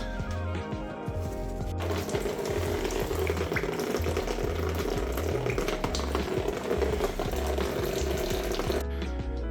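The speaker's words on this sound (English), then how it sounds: "open up the pipe here and let that drain into a bucket" Coolant draining from a car radiator pipe into a bucket on a Mini, a steady splashing, gurgling pour of liquid running continuously at moderate volume, with no talk.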